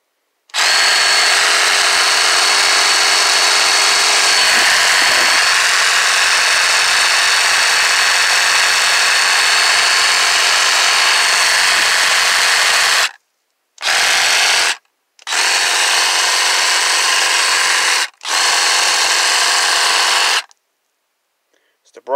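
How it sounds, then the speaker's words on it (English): Battery-powered brushless Milwaukee M12 Fuel Hackzall reciprocating saw cutting through a pine or oak branch, a loud continuous buzzing run for about thirteen seconds, then several shorter bursts with brief pauses, close to the mic. "One hand, cut a good size pine branch or oak branch right off, no problem."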